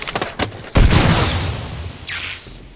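Machine gun fire in the video game Sniper: Ghost Warrior Contracts: a quick burst of close shots followed by a heavy boom that rolls away, with a fainter distant blast near the end.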